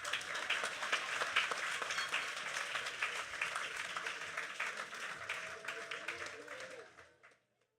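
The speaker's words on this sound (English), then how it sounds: "Clap for the government too, no?" Audience applause at a school graduation ceremony in the Virgin Islands, a crowd clapping steadily with scattered voices mixed in, then tapering off and fading to silence near the end.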